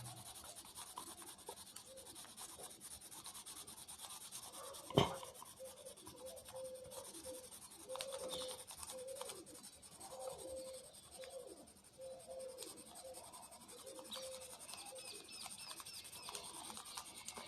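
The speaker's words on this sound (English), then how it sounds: "Just keep your pencil slanted and then just rub it on a page" A pencil held slanted rubs and shades across a paper page in soft, rhythmic back-and-forth strokes, faint and close, with one brief sharp click partway through.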